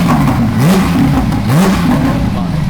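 A Porsche 992 GT3 with an Armytrix exhaust revs loudly and close up, its engine note rising and falling in two sweeping pulls over a steady, throaty idle.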